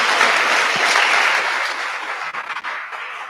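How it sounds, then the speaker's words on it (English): A lively round of applause fills a hall at a mentorship programme event, many hands clapping densely and loudly before gradually thinning out over a few seconds. "Round of applause."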